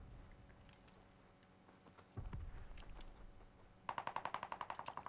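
Gunfire in a Call of Duty video game: a few scattered shots, then a close, loud burst of rapid machine-gun fire with an even rhythm near the end.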